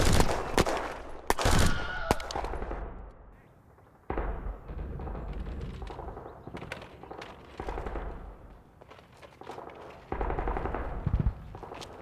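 Machine gun fire in a short war film set on 12/7/1941, sharp bursts of rapid shots and loud cracks near the mic, broken by brief lulls and rumbling battle noise.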